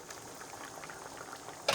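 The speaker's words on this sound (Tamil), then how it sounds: "இப்போ குழம்பு நல்லா ஒரு 10 நிமிஷமாக கொதிச்சிட்டு இருக்குதுங்க" Kongu-style potato curry (kulambu) simmering in a covered pot, giving a soft, steady bubbling, close and fairly quiet, with a brief brighter clatter at the end.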